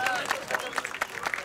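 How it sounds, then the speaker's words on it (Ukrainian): A crowd applauds a karaoke singer at an outdoor show on Khreshchatyk in Kyiv; brief, steady clapping with crowd noise and some music underneath. "Оплески Дмитрові."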